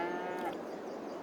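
An Angus cow in Farming Simulator 25 lets out a single drawn-out moo, clear and fairly close, fading into quiet.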